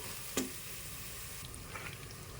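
Masala and turmeric fry in a pan for a drumstick chicken curry, a steady soft sizzle throughout with one sharp clink of a utensil near the start.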